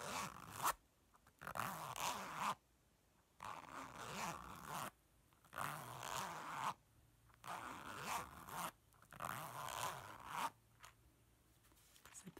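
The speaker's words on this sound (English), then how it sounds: "Zip this one for you too" A clothing zipper pulled back and forth in a quiet room, six or so close, crisp zips in a steady rhythm with brief pauses between strokes.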